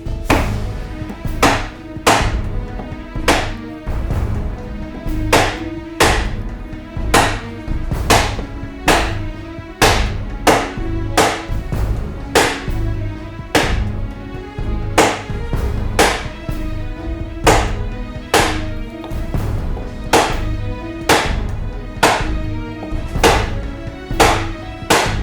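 A curved metal fret is tapped into a bass guitar fretboard with a hammer during a custom build, a long series of sharp, close, evenly spaced knocks repeating about once a second.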